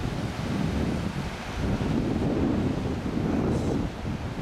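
Pacific Ocean surf rolls in at Duncans Cove on the rocky Sonoma County coast, a broad continuous wash of waves mixed with heavy wind buffeting the microphone, loud and steady with no talk.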